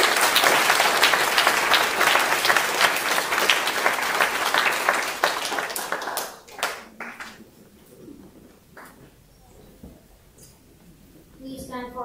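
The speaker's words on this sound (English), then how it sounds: "Now please give them another round of applause." An audience at a scouting program ceremony applauds in a dense, loud wash of clapping that fades over about six seconds into a few scattered claps and quiet room noise.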